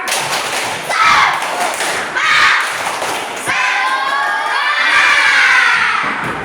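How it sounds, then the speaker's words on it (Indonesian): A school class performs a spirit clap cheer together: bursts of loud, rhythmic group claps and children's shouts, pausing briefly between phrases, close and energetic. "kita tepuk semangat dulu yuk. Tepuk semangat"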